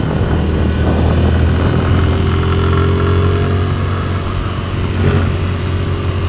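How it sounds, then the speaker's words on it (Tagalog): A Raider 150Fi motorcycle engine runs steadily up close while riding, a loud continuous low rumble with a rising harmonic whine as it revs, heavy wind-like noise throughout and no speech. "Parang ang ganda ng hubong ng motor ko ngayon"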